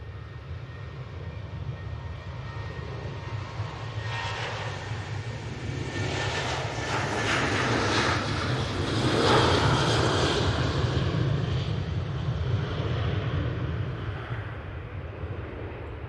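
A KLM passenger jet at Manchester Airport makes a broad, steady engine roar that swells to a peak midway and then eases off, heard from a distance with no talking.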